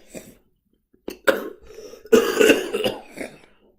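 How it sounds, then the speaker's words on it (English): A person with a cold coughs and clears their throat in a rough fit: a few isolated bursts, then a longer, louder cluster of hacking coughs, heard close up with no talking. "As for that coughing fit I just had"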